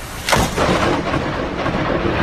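A loud crack of thunder followed by a rolling rumble, with steady rain and wind noise continuing underneath.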